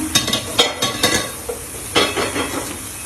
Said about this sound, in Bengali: একটু হালকা নেড়ে দিচ্ছি